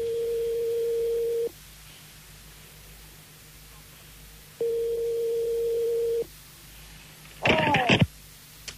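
Telephone ringing tone on a call, a steady electronic tone sounding in two long bursts separated by a pause, followed by a brief burst of speech.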